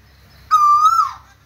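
A single loud, clear call from a black bird with a white beak rises suddenly and holds a steady tone for about half a second, then drops away, close by in an otherwise quiet setting.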